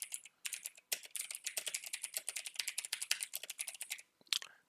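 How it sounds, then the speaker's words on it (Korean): Rapid, uneven bursts of computer keyboard keystrokes as a chart title is typed into a Hangul 2020 document, crisp and close, with a brief pause before a final few taps. "일단 제목 먼저 입력하고요"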